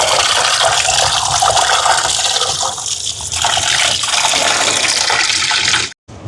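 Cleaned fish being washed: loud, continuous rushing and splashing water close by for several seconds, ending abruptly, with no speech.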